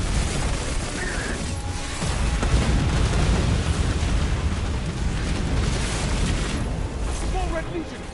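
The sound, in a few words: missile explosions in the video game Destiny 2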